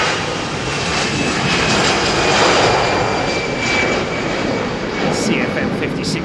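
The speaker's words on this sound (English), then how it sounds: "CFM 56 powered A320" A CFM56-powered Airbus A320 jet takes off at Heathrow with a loud, steady, rumbling engine roar that fills the whole stretch and swells slightly toward the middle.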